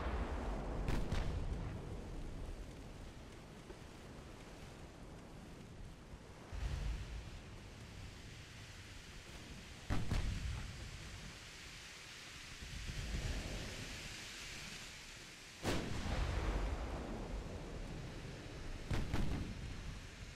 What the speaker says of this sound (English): Fire the guns!